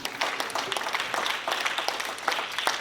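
A book signing audience applauds, brisk steady clapping from a crowd heard at moderate distance for a few seconds without talk.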